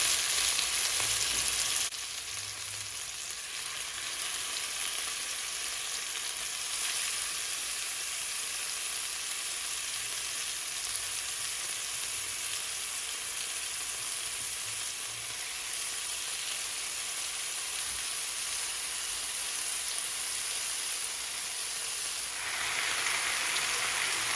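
Oxtail pieces searing in a stew pot give off a steady, even sizzle that carries on without a break, with no one talking over it.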